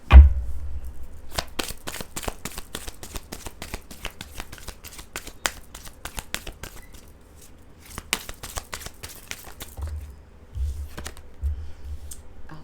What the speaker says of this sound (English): I'm going to just pull out 3 cards.